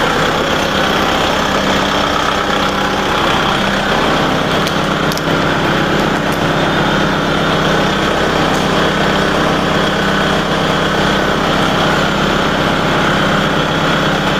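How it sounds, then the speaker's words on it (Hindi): A Kubota MU4501 4WD tractor engine, rated at 45 HP, runs loud and close the whole time. It holds a steady throbbing idle that rises as the engine revs higher, and no voices are heard. "आप देख सकते हैं इंजन 1200 RPM पर है, अभी इंजन 1400 RPM पर है, इंजन 1800 RPM पर है।"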